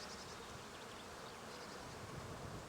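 Honey bees at the hive buzz in a dense, unbroken drone, a loud swarm hum filling the whole moment without pause.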